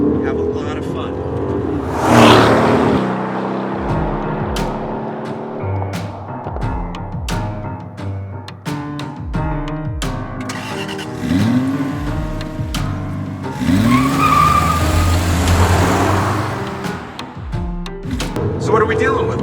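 An Aston Martin DB11 with a 4-litre twin-turbo V8 on a mountain road, engine rising and falling through revs with surges of acceleration and tyre roar, while someone talks over it.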